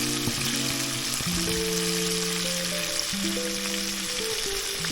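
Rabbit and squirrel meat sizzles and crackles steadily in hot oil, a constant frying hiss close by with no talking.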